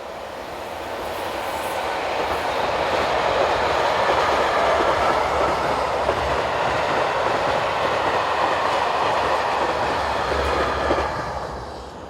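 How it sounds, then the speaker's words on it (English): A freight train passing a line-side spot in Europe, likely bound for Gremberg Yard in Köln, rising from quiet to a loud steady rumble of wagons and rhythmic wheel clatter, then fading near the end. "At last a freight train."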